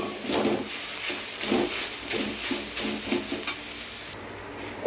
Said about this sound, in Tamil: இப்போ அந்த கடாயில் நம்ம வந்து பூண்டு புளி அந்த வத்தல் இவ்வளோத்தையும் கொஞ்சம் லேசாக வறுத்து எடுக்கணும்